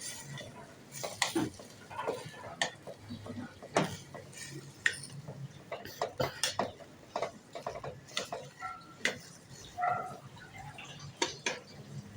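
Sautéed mixed vegetables stirred in a pot with a utensil, giving repeated close clinks, scrapes and taps in an irregular rhythm over a low sizzle, with a few brief voices.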